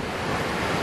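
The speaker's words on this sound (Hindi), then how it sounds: "अभी मतलब वाटरफॉल का आवाज़ भी आ रहा है" A waterfall beside a road near Sunabeda, Nuapada, gives a steady, dense broadband rushing roar, loud and constant throughout the brief moment.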